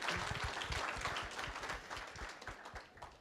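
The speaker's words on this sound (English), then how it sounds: "give yourselves a round of applause" A conference audience at a DevOps event applauds, dense steady clapping throughout at a moderate distance, fading slightly toward the end.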